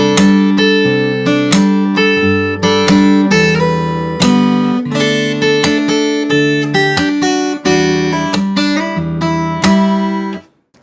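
Fingerstyle acoustic guitar plays a passage of a song from Kpop Demon Hunters, with clear plucked melody notes over bass notes at a steady, moderate tempo. It is close and alone, with no talk, and the last note rings out at the end.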